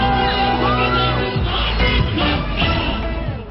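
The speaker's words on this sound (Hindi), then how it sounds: "आसपास फैंस की भीड़" A dense crowd of fans surrounds a social media star on stage in Palamu, Jharkhand, producing a loud, continuous roar of shouting and cheering voices with excited whoops throughout.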